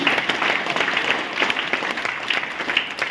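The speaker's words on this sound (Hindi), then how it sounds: "फ्रीडम एक जोरदार ताली होनी चाहिए।" Seminar audience gives a round of applause, many hands clapping in a continuous crackling stream, moderately loud and unbroken.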